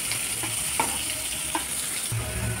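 Potato pieces fry in hot oil in a kadhai, a low steady sizzle broken by a few light taps and scrapes of a spoon, close and without voices.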